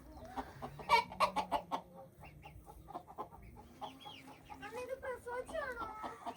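A hen clucks repeatedly near the nest where she has laid eggs, giving a quick burst of loud clucks followed by softer, scattered calls, with some faint voices in the background.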